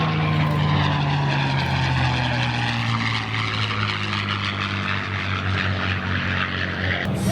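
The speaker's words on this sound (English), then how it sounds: "Here comes another North American product. It's the B-25." North American B-25 bomber passing at the Central Coast AirFest airshow in Santa Maria, California, a loud steady drone of twin piston engines with propeller throb, sustained and close throughout.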